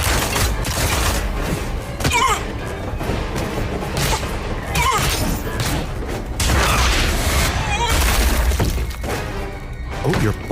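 Rapid gunfire and crashing impacts from Deadpool in a VR video game, a dense run of sharp bursts and smashes with brief pauses, loud and busy throughout.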